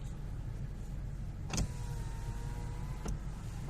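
A wheel loader working at a dinosaur fossil site in Khon Kaen, Thailand: a steady low engine drone runs throughout, with two brief louder bursts of mechanical noise near the middle and end.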